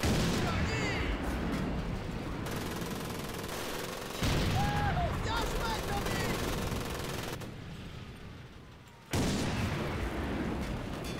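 A howitzer fires on the Guadalcanal battlefield in the World War II shooter Medal of Honor: Pacific Assault. Loud, dense booms and rattling gunfire run continuously with abrupt level jumps, and a voice talks over the combat.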